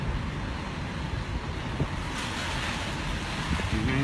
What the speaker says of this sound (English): Gonna get windy.